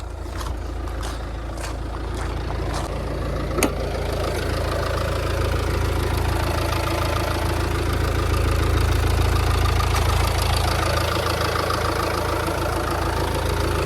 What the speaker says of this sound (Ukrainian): Двигун працює так, як і має працювати.